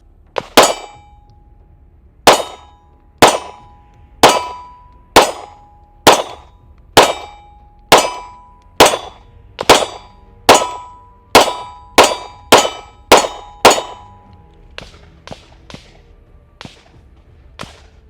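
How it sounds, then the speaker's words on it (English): Pistol shots from a Sig Sauer M18 P320 fired at a target about 25 feet away. About eighteen sharp, loud reports come at a slow, even pace, then quicken into a faster string near the end, each one followed by a short ringing decay. "I'm shooting a Sig Sauer M18 P320."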